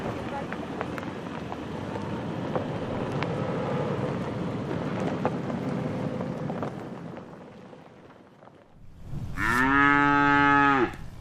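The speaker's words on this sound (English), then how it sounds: "Those are Jim Chilton's cows" Cattle on an Arizona ranch give a loud, close moo near the end, a long harmonic call rising from a low, busy outdoor background of ambient noise and faint activity.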